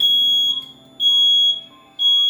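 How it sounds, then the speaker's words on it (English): A smoke detector set off with aerosol spray sounds a loud, piercing high-pitched alarm in repeating pulses, about half a second on and half a second off, with nothing else heard. "Trigger a smoke detector with aerosol spray."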